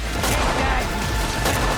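Loud gunfire bursts in a rapid fusillade of repeated shots, dense and close throughout.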